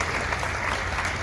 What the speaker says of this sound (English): So please, a round of applause for him.